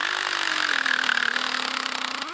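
A power tool whines loudly and steadily, its pitch dipping slightly under load, with a rapid rough chatter throughout.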